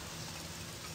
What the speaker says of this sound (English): It's dark. It's raining.